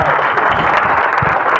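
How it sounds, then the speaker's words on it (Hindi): An audience clapping, a brief, dense and loud wash of applause lasting under two seconds with no talk over it. "एक बार ताली बजा दो, बातचीत शुरू करें।"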